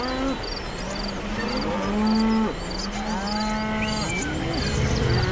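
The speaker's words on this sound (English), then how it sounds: "this cow's here as well" A cow in the Convoy video game moos repeatedly, with long drawn-out lows rising and falling over several seconds above a steady hum of insects.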